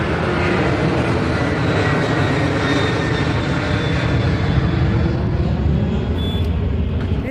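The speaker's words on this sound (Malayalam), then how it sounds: "തൊട്ടടുത്ത് എയർപോർട്ടിൽ നിന്ന് ഒരു എയർ ഇന്ത്യ എക്സ്പ്രസ് പോകണം ഒച്ച കേട്ടോ" Air India Express jet taking off from a nearby airport, a steady broadband roar of engine noise holding at a constant level throughout, loud and continuous with no voices over it.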